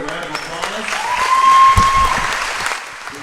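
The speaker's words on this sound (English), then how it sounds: "So I think they deserve a round of applause." A high school girls' basketball crowd in a gym claps for a few seconds, swelling then fading, mixed with a voice over the public address system and a brief ringing tone of feedback.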